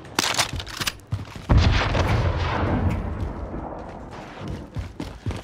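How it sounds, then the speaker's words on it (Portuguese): Call of Duty Warzone gunfire: rapid cracking shots, then a heavy booming blast with a long rumbling tail and scattered further shots, fairly close and loud, with no talk. "Agora é tiro."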